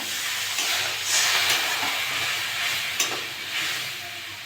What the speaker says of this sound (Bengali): মশলাটা কষে নেবো